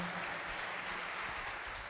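Congregation clapping in a church service, a steady dense wash of applause at moderate level throughout, with no voices standing out.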